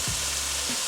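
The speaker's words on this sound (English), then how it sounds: "let's go ahead and add our sausage to the skillet. It is nice and hot" Sausage sizzles steadily in a hot skillet, a close, even crackling hiss with faint stirring clinks and no voices.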